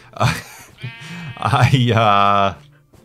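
Sheep bleating in the video game Minecraft, a couple of wavering, tonal bleats standing out clearly over someone talking nearby.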